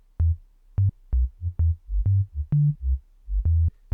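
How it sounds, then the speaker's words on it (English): A sine-wave sub bass line for an old-school garage house track thumps through short, deep notes in a jumping rhythmic pattern, clean and unaccompanied, with a brief click at the end. "I started out with a sine wave as a sub"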